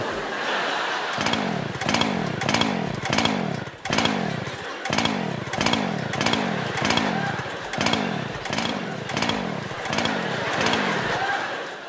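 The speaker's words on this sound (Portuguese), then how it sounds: "Ele trouxe 3 motosserras para o palco para o deleite do público." Several chainsaws roar on a magic show stage, engines revving in a steady pulsing rhythm of repeated throttle bursts, loud and close, with voices faintly under the din.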